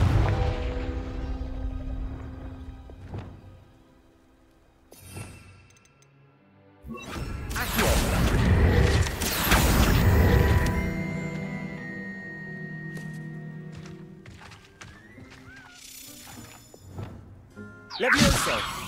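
Confringo blasting-spell explosions in Hogwarts Legacy, a burst of loud crashing booms mid-clip with smaller impacts before and after, over game music and effects.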